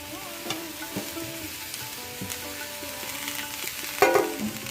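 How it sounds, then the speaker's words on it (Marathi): A spatula stirs and scrapes through frying spring onions in a pan, with soft sizzling and occasional clinks against the metal. "आपण हे ढवळून घेऊया"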